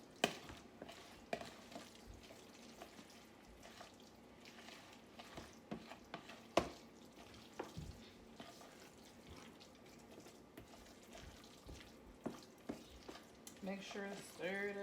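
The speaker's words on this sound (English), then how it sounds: "Make sure to stir it up in there." Tuna salad is stirred in a bowl with a utensil, giving quiet, irregular scraping and clicking strokes at close range.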